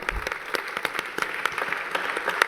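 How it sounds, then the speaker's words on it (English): Audience applause for members of a panel at the inaugural event of a UNESCO Chair, a steady, dense round of clapping from a seated crowd lasting the whole stretch with no voices over it. "Let's give a big round of applause to our panel members."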